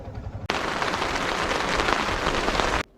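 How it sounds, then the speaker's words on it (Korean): Rain pours down at a motorcycle campsite in the early evening, a dense, even patter that starts abruptly, holds steady for a couple of seconds and then cuts off, close and fairly loud with no talking. "초저녁부터 비가 내리기 시작합니다. 빗소리 참 듣기 좋아요."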